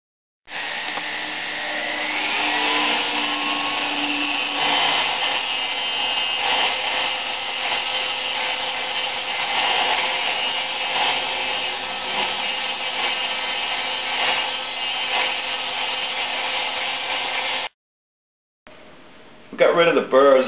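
A rotary buffing tool works burrs off the webs of a FL 250 crankshaft in a workshop, giving a steady, loud, continuous high-pitched whir with grinding rub for most of the clip, then stopping abruptly near the end.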